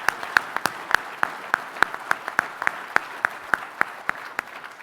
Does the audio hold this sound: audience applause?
yes